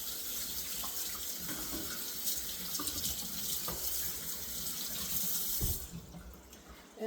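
Water pours steadily from a kitchen tap into a sink while something is rinsed during homemade lasagna preparation, a continuous close splashing hiss that eases off near the end.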